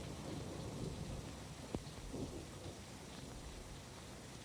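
A thunderstorm sounds as a steady hiss of rain with a low rumble of thunder and one brief sharp crack partway through, all fairly faint.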